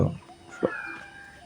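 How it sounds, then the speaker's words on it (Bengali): Birds call in the forest near Khaiyachhara waterfall in Mirsarai, Chittagong: a short burst of calls at the start and one brief, sharp call midway, moderately near against quiet woodland ambience. "আর উপরে পাখিদের ডাক"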